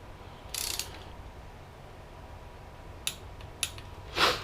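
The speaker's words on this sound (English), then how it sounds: "I'm just torquing these down to 14 as they should be" A torque ratchet tightens bolts on a Honda J35a7 engine block during a turbo build, giving a brief ratcheting burst and then a few sharp isolated clicks close by in a quiet garage, with no talking.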